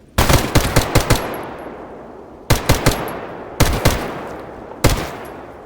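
Bursts of automatic gunfire ring out in the STALKER GAMMA modpack, a rapid run of five shots followed by three shorter bursts of a few rounds each. Every shot snaps loudly and echoes off briefly in between.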